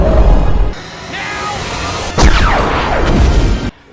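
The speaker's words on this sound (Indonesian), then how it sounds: "Gas yang ada pada tubuh naga raksasa itu membuat tubuhnya meledak." A giant dragon's body bursts apart in an animated film, heard as a loud booming blast with crackling debris and fiery rumble that rises sharply midway, then cuts off abruptly near the end.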